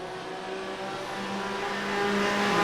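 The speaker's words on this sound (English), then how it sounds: "Pushing in the back straight with everything that engine has and that BMW is Jesus Sicilia" BMW race car engine at full throttle along the back straight at a circuit race, a sustained, steadily rising drone that grows louder toward the end.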